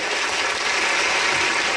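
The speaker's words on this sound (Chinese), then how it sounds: "我们热烈掌声再次欢迎吕毅林立委" Steady applause from an audience at a political town-hall event in Taiwan welcoming a legislator to the stage, dense and continuous clapping throughout with no talk over it.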